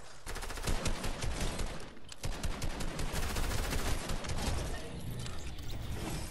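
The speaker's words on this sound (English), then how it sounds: "I'm getting shot." Dense, continuous automatic gunfire in a shooter video game, rapid overlapping bursts filling the whole stretch with loud mechanical clatter and no pause.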